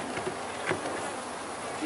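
Honeybees from a package buzzing while being hived, a continuous close hum of many insects with individual bees droning past the microphone.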